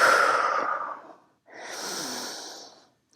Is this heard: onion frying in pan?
no